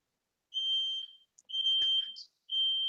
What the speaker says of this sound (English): If you can hear that bleeping noise in the background of my audio, I apologise. It's smoke alarm going off.